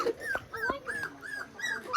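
Puppies trapped in a trench on a home building site whimper and yip in a quick series of high, thin cries, fairly close and faint, with no talking over them.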